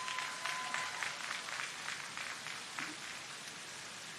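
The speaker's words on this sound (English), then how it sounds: "And you can give those a big round of applause." Commencement audience at a community college graduation applauding fellow students, a moderately distant wash of many hands clapping that stays fairly even for the whole stretch.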